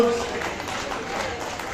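Audience clapping at an award ceremony honouring a women's foundation founder; a steady patter of applause from a crowd, partly under a speaker's voice.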